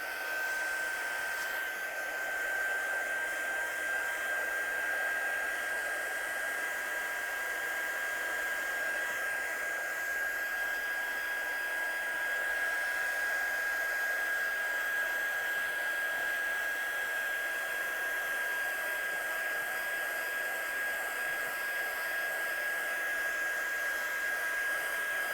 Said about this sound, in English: I'm just going to dry this one off with my gun to make sure it's absolutely dry.